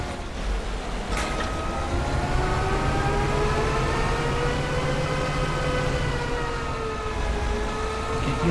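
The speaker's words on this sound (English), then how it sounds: "Train again is kind of coming into the issue." A train passing in the Farming Simulator 25 video game on the Zielonka map: a loud, continuous low rumble under a sustained, slowly wavering horn-like tone that carries through the whole stretch.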